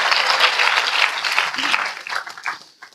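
Church congregation applauding during a Hindi-language sermon, dense clapping that thins and fades out over the final second into scattered claps.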